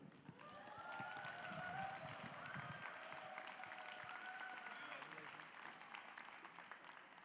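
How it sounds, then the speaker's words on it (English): An audience at an award ceremony applauds with dense, steady clapping that continues evenly throughout, with a faint background hum beneath it. "Please give a warm applause to Neil Shenoy."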